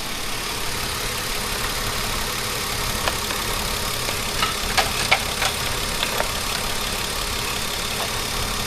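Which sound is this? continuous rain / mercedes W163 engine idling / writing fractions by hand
mercedes W163 engine idling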